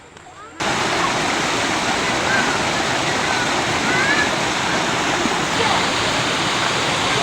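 Basagak Falls roars with a loud, constant rush of falling water close by that fills the whole scene, with voices talking over it.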